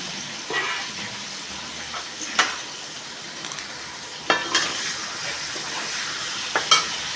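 Capsicum pieces sauté in hot oil with bay leaves, giving a steady, close sizzle. Occasional scrapes and taps of a stirring utensil cut in, and no one talks.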